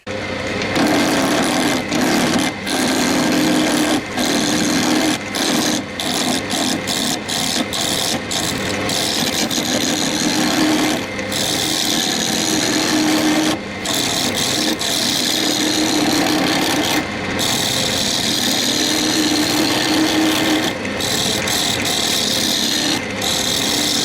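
A roughing gouge cuts a spinning yew and walnut vessel on a wood lathe, giving a steady, loud rasping drone for the whole stretch, broken by frequent brief catches and scrapes as the tool works the shape.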